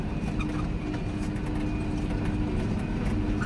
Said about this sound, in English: Watching the train go by. That's some tankers, isn't it?